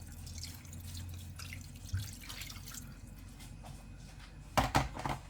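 Water is poured into a rice and soup mixture for baked chicken, a soft low trickle and splashing running quietly throughout, with a brief louder splash near the end.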